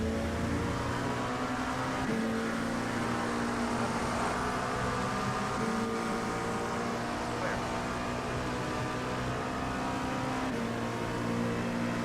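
Race car engines roar continuously in the iRacing sim during an IMSA multi-class race at Interlagos, a steady high drone with shifting pitch as cars run in traffic around a Porsche, loud and unbroken.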